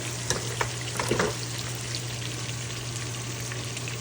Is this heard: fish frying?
yes